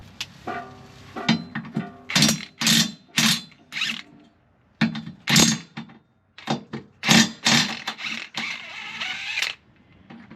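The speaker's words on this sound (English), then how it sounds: "we're going to take those transfer case cross member bolts loose, and again, those were 16mm" Ratcheting wrench loosening 16mm transfer case cross member bolts under an all-wheel-drive Mercedes Sprinter van, heard as repeated close, loud bursts of clicking pawl and creaking bolt with short pauses between strokes.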